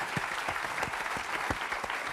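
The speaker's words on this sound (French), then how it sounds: "On peut l'applaudir très fort." A TV studio audience applauds steadily, a dense wash of many hands clapping at moderate volume with no talking over it.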